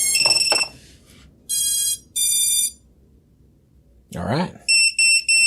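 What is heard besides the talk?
drone flight controller beeping, no receiver connected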